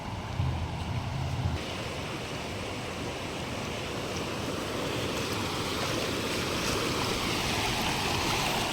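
Floodwater rushes over a washed-out village bridge, a continuous roaring churn of flowing water with some wind buffeting the microphone, steady and fairly close throughout.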